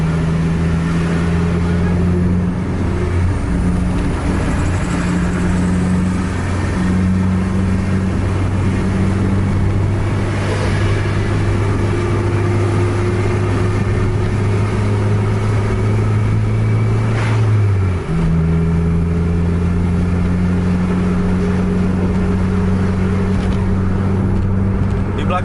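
An intercity bus engine pulls hard on a wet, rainy road, its loud droning tone climbing steadily before dropping sharply at a gear change, then carrying on strongly.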